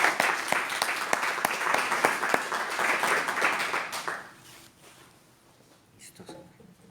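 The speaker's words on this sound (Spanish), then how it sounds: "Este aplauso es para nuestro Señor Jesucristo." A church congregation applauds during a Bible study, dense clapping for about four seconds that then fades into a quiet room with a few stray claps.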